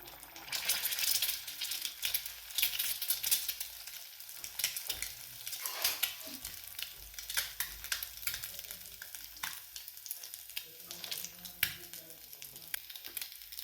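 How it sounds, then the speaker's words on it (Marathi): Boiled egg stirred and frying in hot oil in a pan for an omelette, a steady crackling sizzle with scraping and clinking from the spatula against the pan throughout. "हे बॉईल अंड आपण यामध्ये घातलेलं आहे आणि आता हे थोडंसं असं फिरवून घ्या, जेणेकरून हे अंड असं पूर्णपणे भाजलं पाहिजे."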